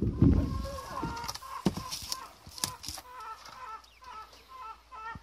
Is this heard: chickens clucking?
yes